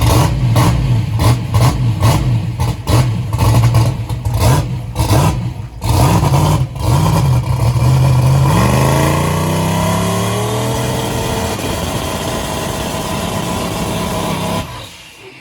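A turbocharged small-block drag radial race car with a 118mm turbo, rear tires lifted off the ground, chugs through a lumpy idle, then revs hard and holds high on the trans brake before cutting off, loud and close.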